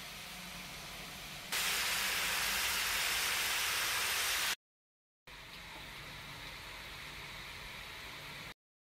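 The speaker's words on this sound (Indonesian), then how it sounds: "Kita goreng kentang sama tahu." Potatoes and tofu frying in hot oil, a steady loud sizzling hiss that swells for a few seconds, cuts out briefly, then returns a little softer.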